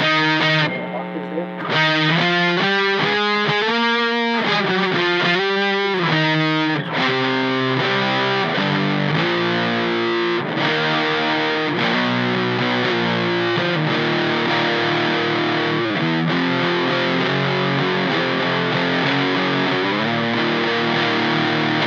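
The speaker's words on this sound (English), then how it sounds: "It's still kind of like a fuzz" Fender Vintera Jazzmaster electric guitar through a fuzz-like sustain pedal set wide open, thick sustained notes shifting pitch at first, then chunky chords ringing on, loud and close.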